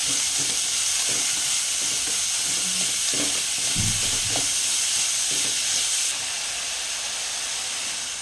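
Beetroot stir-fry with added salt is mixed in a hot pan. A steady hissing sizzle carries under repeated scraping and stirring strokes, close and fairly loud, with no talking.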